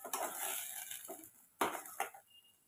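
Tomato puree poured into fried onions in a pot and mixed for dal fry, heard as a few clattering spoon-and-pot scrapes with soft stirring and faint sizzle between, close and moderately loud.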